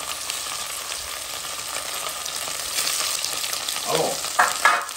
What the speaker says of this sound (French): De l'huile quand elle est chaude. Écoutez le bruit.